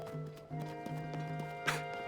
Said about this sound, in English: Horses, yeah.